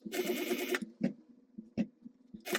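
A sewing machine stitching fabric, a brief close whirring run of the needle followed by quieter clicks and knocks, then another short burst at the end.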